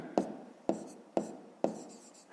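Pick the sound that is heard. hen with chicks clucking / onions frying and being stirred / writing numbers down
writing numbers down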